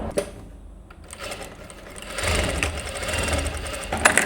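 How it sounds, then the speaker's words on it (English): A sewing machine stitches a test run on scrap fabric, first a light ticking and then a steady, fast mechanical whir with a knocking rhythm, close by and with no one speaking. "the first thing I want to do is to test the settings on the scrap of my machine"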